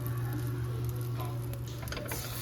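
Egg-dipped slices of French toast fry in a hot pan with a steady, close sizzle and soft crackling patter, with no voices.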